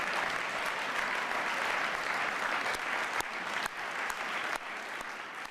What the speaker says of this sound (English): Let's have a resounding hand of applause for these previous inductees.